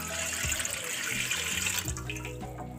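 Water poured steadily into a cooking pot for steaming sweet potatoes, a continuous close splashing rush lasting the whole moment with no talk over it.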